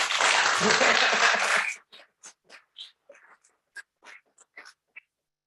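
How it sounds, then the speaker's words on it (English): At a city council special meeting, the audience applauds Deputy Fire Chief Zamora with a full burst of clapping that stops abruptly, followed by a few scattered, isolated claps trailing off into quiet. "Let's give him a big round of applause."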